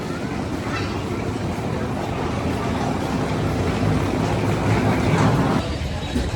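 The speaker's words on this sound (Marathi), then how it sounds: "तर ही बघा ही आपली ट्रेन आहे" Train 12172 rumbles steadily on the tracks at Haridwar railway station at close range, a continuous low roar with faint rhythmic clatter, swelling slightly toward the end.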